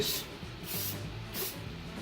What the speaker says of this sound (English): Always use little mists of spray, because then you'll get dark lines if you don't